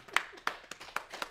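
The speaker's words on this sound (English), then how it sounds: "I want to give you a real clap." Four sharp hand claps from a single person at a steady, slightly uneven pace, close and fairly quiet, during a virtual graduation award presentation.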